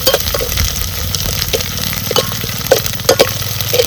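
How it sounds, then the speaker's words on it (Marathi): Garlic, grated coconut and curry leaves sautéed in a pan, a continuous low frying hiss with a few sharp spoon clinks and scrapes against the metal. "चांगलं मस्त असं हे आपल्याला परतून घ्यायचंय"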